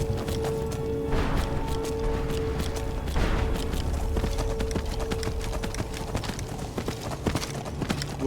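Horse hooves gallop in the video game Skyrim, a quick continuous clip-clop beat heard up close over a low ambient game backdrop, with no speech.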